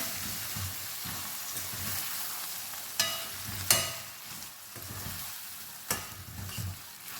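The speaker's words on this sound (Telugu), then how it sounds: "ఇప్పుడు ఇవన్నీ వేగినాయే, కానీ ఒక 2 నిమిషాలు తాలింపులో ఈ మసాలా అంతా వేగనిద్దాం" Masala for a capsicum gravy curry fries in tempering oil, a steady close sizzle broken by several sharp scrapes and knocks of a spoon stirring the pan.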